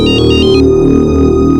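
A phone ringtone plays loudly and steadily in a tense police-drama scene, a repeating electronic melody with sustained tones, no voices over it.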